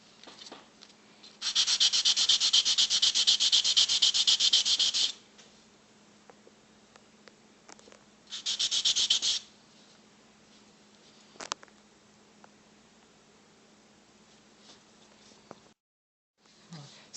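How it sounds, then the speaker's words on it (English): Sandpaper rubs across the bottom of crystal pillar pieces in two steady bursts, a longer one and a shorter one, close and moderately loud, with faint clicks between them; no talk. "I'm gonna use a sanding paper and sand just the bottom of the pillar pieces"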